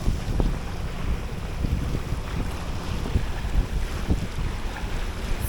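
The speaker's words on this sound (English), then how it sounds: "we start sailing and we start going north" A sailboat under sail heading north with a damaged rudder bearing, wind rushing hard across the microphone while water washes and slaps against the hull in a steady, noisy wash.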